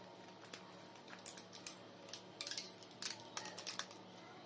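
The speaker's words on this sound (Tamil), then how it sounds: "இப்போ நம்ம ஃபாயில் வச்சு இதை க்ளோஸ் பண்ணிடலாம்" Thin aluminium foil sheet crinkled and pressed over a tumbler of homemade kulfi ice mix, giving a run of crisp crackles and rustles that grow busier toward the end, close and fairly quiet.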